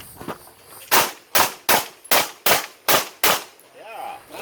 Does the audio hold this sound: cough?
no